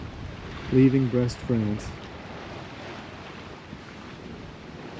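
A Hallberg-Rassy 44 sailboat runs downwind across the Bay of Biscay, steady wind and wave rush filling the whole stretch while a voice speaks briefly near the start.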